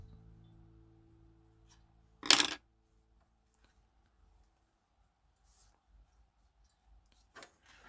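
Scissors snip through crochet yarn in one short, crisp cut near the start, followed by near silence and a faint brief rustle later.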